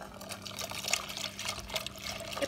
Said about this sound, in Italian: posso versare il resto del latte